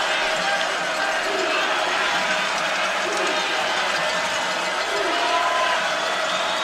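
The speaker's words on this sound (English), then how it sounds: "This homecoming crowd getting to its feet." A homecoming football crowd at Idaho State versus Liberty swells as it rises to its feet, making a dense, continuous roar of noise while a commentator talks over it.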